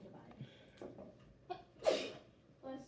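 In a quiet classroom during a math lesson, one person lets out a single sharp sneeze, fairly close, standing out against faint background murmur and shuffling.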